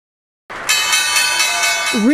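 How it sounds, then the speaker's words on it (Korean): A stock market closing bell rings at the end of a bad trading day, a bright metallic ringing that starts abruptly and sustains loudly, with a voice beginning to speak over it at the end. "Ringing an end to an awful day in the stock market"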